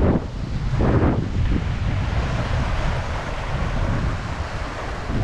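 Steady wind buffets the microphone throughout, a loud rushing roar with a few stronger gusts early on, and no voices.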